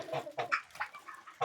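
A young rooster clucks in a run of short, quiet, rhythmic calls, close by, with no talking.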